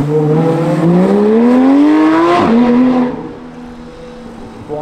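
A Porsche 991.1 GT3 with its 3.8-litre engine revs hard and close, the pitch climbing through a loud rising howl, snapping off at a shift, then dropping back to a lower, quieter drone.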